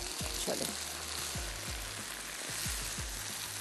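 Mushroom rice being stirred in a hot pan, a faint continuous sizzle broken by repeated low thuds and scrapes of a spoon at a regular, unhurried pace.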